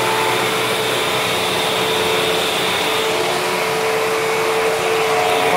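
Hoover twin chamber vacuum cleaner running steadily at close range, a loud continuous motor whine and airflow roar that holds an even level throughout with no pauses.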